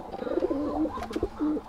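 A pigeon with raw-turmeric yellow eyes coos in a steady run of low, rounded, repeated notes close by, clear and alone.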